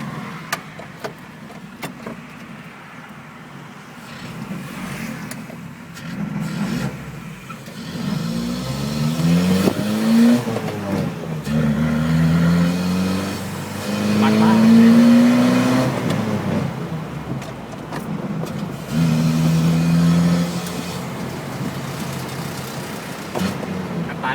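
A Mazda 1000 engine converted to a carburetor, run with a bicycle throttle cable, revs up and falls back in repeated swells, heard up close under a steady idle.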